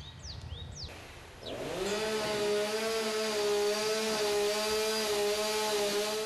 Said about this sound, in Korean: 이른 아침부터 공사 소리가 요란하다